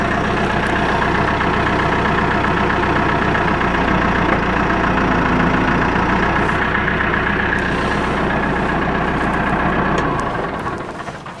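A steady, droning tractor engine idles continuously at close range, low and even throughout, fading slightly at the very end.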